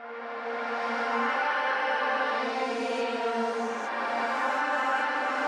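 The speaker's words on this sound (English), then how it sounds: "I reversed the original sample, applied some delay and reverb to it, bounced that, and then reversed it back" A reversed vocal sample drenched in delay and reverb, a sustained airy tone with a smeared swelling onset and shimmering tail, steady in loudness and heard alone.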